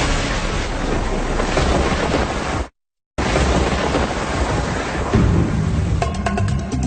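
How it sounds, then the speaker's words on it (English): Heavy thunder rumbles loud and broad amid wind and rain from powerful lightning, cut by a brief silent gap, then swelling again with crackling bursts. "could this be Earth's most powerful lightning?"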